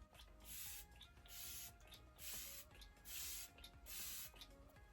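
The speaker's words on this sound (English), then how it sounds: "let's give it a shot here and see how much glow we can get" Five short bursts of apple-scented makeup setting spray mist hiss out onto a face in a steady rhythm, close and soft, with faint rustling between them.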